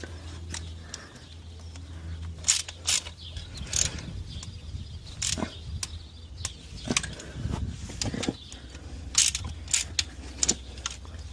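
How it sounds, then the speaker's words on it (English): Ratchet clicking in short bursts while valve cover bolts are tightened on an Infiniti FX37 (QX70) engine during a valve cover gasket replacement, with scattered metallic clicks and clanks close by against a steady low hum. "you're honestly not tightening these valve covers extremely hard."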